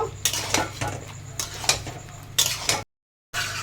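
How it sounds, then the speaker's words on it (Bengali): Chilli chicken stirred in a frying pan with a metal utensil: sharp scrapes and clinks come in an uneven rhythm over a low sizzle. A brief silence falls before the stirring resumes. "এরপরে ভালো করে মিক্স করে নেব"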